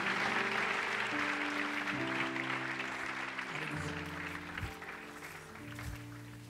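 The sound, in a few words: audience applause in church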